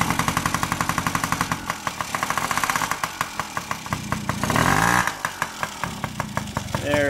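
A Yamaha PW50 two-stroke motorcycle engine being revived with fresh two-stroke oil, running close by with a rapid popping idle, uneven revs and a brief louder blip of throttle midway.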